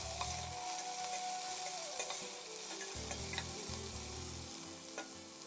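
Green chillies and curry leaves fry steadily in hot oil, with a continuous sizzle and occasional scrapes and taps of a stirring utensil against the pan.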